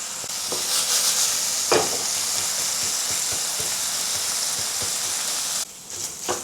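Minced pork searing in a single layer in a pan over medium heat, giving a steady close hiss with occasional crackles and a scrape partway through, fading slightly near the end.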